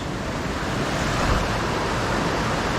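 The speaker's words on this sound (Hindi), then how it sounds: "हाँ तो पानी का फ्लो जो है वो तेज़ है" Fast-flowing river water near Rishikesh rushes in a loud, dense, continuous roar close to the microphone, steady throughout with no voices over it.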